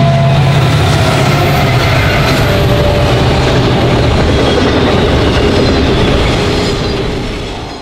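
A westbound BNSF auto rack freight train led by foreign locomotives rolls past near Verona, a loud, continuous rumble and clatter of wheels and cars that gradually eases toward the end.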